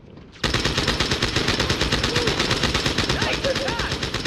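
Sustained turret machine-gun fire in Halo 2, a dense rapid stream of shots that starts abruptly and runs loud and continuous throughout, with a faint voice briefly underneath.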